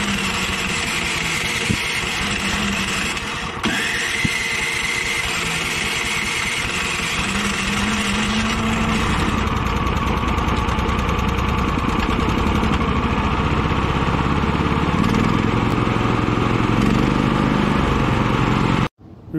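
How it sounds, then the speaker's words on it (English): An APWC420 wood chipper engine runs at idle on the lowest throttle setting with a steady, loud, close mechanical drone for nearly twenty seconds, then cuts off abruptly at the end. "let's start the wood chipper"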